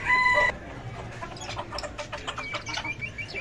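Chickens and roosters in a cage, clucking in an irregular, fairly close chorus of short calls after a brief electronic tone at the start.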